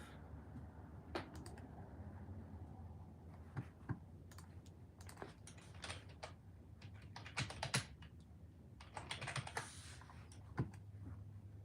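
Computer keyboard keys tapped in short irregular bursts while someone types a search query, quiet and close with no talking over the clicks.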